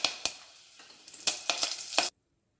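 Curry leaves sizzling in hot oil in a pan, with sharp crackling pops over a soft hiss, stopping abruptly after about two seconds.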